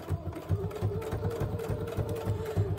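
A sewing machine stitching steadily, its motor driving a fast, even mechanical rhythm of repeated clicks and whirs, close by with no talking.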